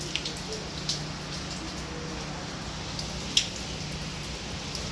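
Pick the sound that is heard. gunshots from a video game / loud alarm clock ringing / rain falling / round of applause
rain falling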